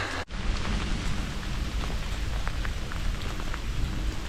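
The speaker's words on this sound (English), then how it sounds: "this rain is just not stopping" Steady rain pattering down in a bluebell woodland, a dense hiss of drops on leaves and ground, with a brief dip near the start.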